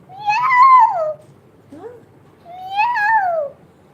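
A voice imitates a cat, giving two drawn-out meows with a short, faint sound between them.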